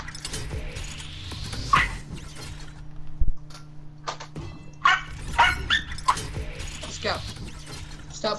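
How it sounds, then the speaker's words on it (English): Dog barking in a room, several sharp barks in bursts, mixed with mechanical clicking and creaking sounds and a hum in the background. "Stop barking."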